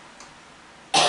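A single short, loud cough from a woman getting over a cold bursts out at close range after a quiet moment.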